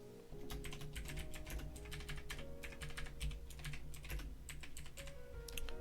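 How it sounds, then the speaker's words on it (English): Rapid, steady typing on a computer keyboard, close and clear over a constant low hum, with a few short pauses between runs of keystrokes; no one speaks. "So let me type this up."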